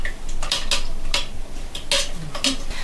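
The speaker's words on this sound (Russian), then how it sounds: "И, значит, в этих яйцах взбить сахар." Sugar being whisked into eggs for a curd casserole: quick clinking and scraping of a whisk or spoon against a bowl in uneven strokes, close and moderately loud, with no voices.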